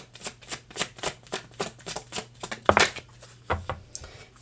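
Tarot cards being shuffled by hand, a rapid series of crisp riffling flicks in a steady rhythm with one sharper snap near the end, close and clear with no talk.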